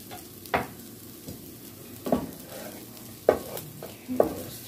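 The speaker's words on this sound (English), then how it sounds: "I'm gonna stir that around." Beef fried rice is stirred in a pan, with several scraping, clattering strokes of the spatula spaced about a second apart over a soft, steady sizzle.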